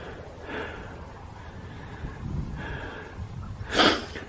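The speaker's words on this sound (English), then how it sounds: "I'm panting because I'm out of breath" Heavy breathing from someone out of breath after a walk by a playfield and dog walking area, with several audible breaths, nearby and moderately loud, ending in a sharper exhale.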